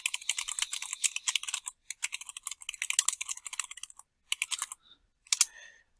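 Fast, steady typing on a computer keyboard, dense bursts of crisp keystrokes close to the listener with a few brief pauses, no voices.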